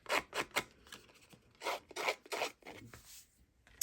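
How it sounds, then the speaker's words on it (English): A cardstock edge is rubbed and scraped in short rasping strokes, distressing crumb-cake-coloured paper for a handmade fall card. The strokes come in quick irregular bursts, close and quiet, with no talking. "now that our crumb cake piece is dry, I'm also going to distress the edges of this"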